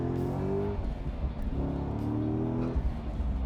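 A Corvette Z06 engine revs and pulls hard under acceleration, two rising harmonic sweeps climbing through the gears, heard fairly close but at moderate level, with no talking.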